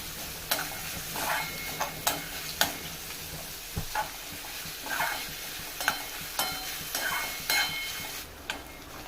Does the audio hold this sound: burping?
no